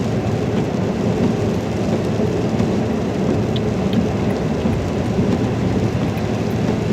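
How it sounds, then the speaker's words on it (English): Steady rain falling around a car on a rainy day, a dense continuous patter with low rumbling underneath; no distinct wiper strokes stand out. "You listen to some rain, you listen to some wipers"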